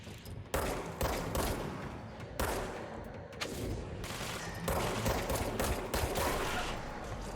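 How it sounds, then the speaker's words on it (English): Heavy gunfire in the video game Control, with sniper shots among it: repeated loud volleys and bursts that keep the whole stretch busy, with brief gaps before fresh salvos. "Oh, it's a sniper."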